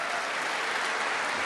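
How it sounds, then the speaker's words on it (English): Democrats in a chamber give a standing ovation, a continuous wash of many hands clapping, even and sustained from start to finish, with no voices standing out. "The Democrats all clapping for a king"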